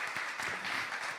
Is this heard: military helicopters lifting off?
no